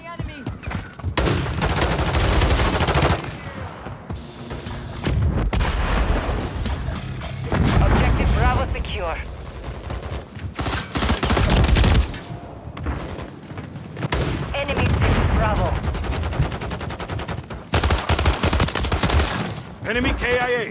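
Dense, continuous gunfire from Call of Duty Modern Warfare 3: loud bursts of automatic weapons and booming explosions, sustained throughout with barely a pause.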